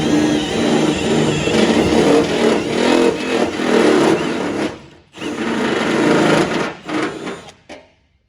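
A step drill whines steadily into metal on a Toyota N70 Hilux guard in long continuous bursts, briefly stopping and restarting, close and loud, before trailing off at the end.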